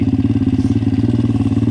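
An MRF 170 pit bike fitted with a Daytona 190 engine runs close and loud with a throbbing, pulsing beat, holding steady revs with no talking.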